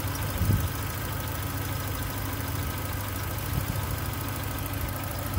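A Volkswagen Golf MK3 engine, rebuilt years ago, idles steadily up close with a continuous low rumble and a slight uneven pulse, with no voices.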